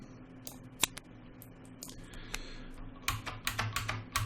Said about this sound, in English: Now you might hear very loud clicking. It's because I have what they call a spring bucket keyboard